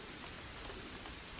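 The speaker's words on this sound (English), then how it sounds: "Why is it raining? When did the rain start?" Steady rain falls in the video game A Plague Tale: Innocence, a dense, even patter of drops that holds at a constant level throughout the short stretch without any voices.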